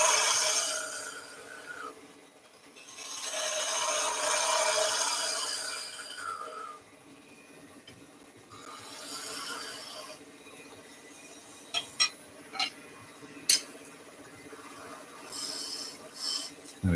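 Skew chisel cutting wood on a lathe while turning a spinning top, a soft rasping shave that comes in sustained passes with pauses, followed by light scattered taps and scrapes, fairly quiet and close.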